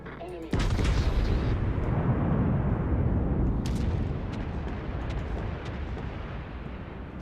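A sudden, loud warship gun blast in World of Warships opens with a sharp crack, then a heavy, roaring rumble slowly fades over several seconds.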